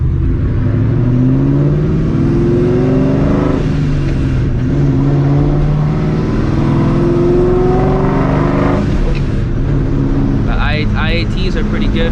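A supercharged 2004 Mustang GT pulls hard through the gears, rising and falling supercharger whine over a loud engine roar, each shift punctuated by a blow-off valve release, heard from inside with talking mixed in.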